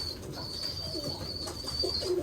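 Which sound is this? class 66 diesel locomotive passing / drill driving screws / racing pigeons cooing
racing pigeons cooing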